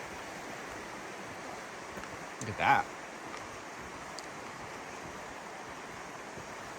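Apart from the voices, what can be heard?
Silver Creek flowing, Silver Falls State Park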